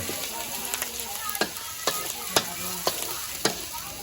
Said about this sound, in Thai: เป็นผัดถั่วงอก ใส่เต้าหู้เป็นอาหารเจเดี๋ยวเรามาดู นะครับ ก็ผัดไปผัดไป